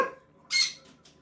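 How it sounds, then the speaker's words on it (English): Pet birds give a single sharp, harsh squawk up close, followed by two fainter trailing calls in a quiet home. "We get the birds squawking."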